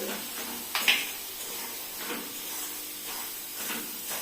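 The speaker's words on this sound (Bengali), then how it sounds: "ভেজে নিই এটা ভালো করে, মশলাটা ভেজে তারপরে আমি আলুটা দেব।" Spices with turmeric and dried red chilli frying in a pan for a samosa filling give a soft, steady sizzling hiss, with faint intermittent scraping and stirring noises.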